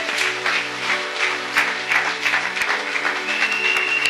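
A church congregation applauding and cheering the Lord at a service led by Pastor Okito, with steady, dense clapping over music, close and sustained throughout.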